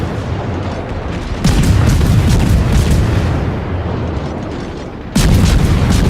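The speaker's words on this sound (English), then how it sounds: "And SJ unloads his shells fast on it." Heavy naval gunfire from a warship in World of Warships, loud booming salvos with sustained roaring rumble, a fresh burst near the start and another near the end, no talking.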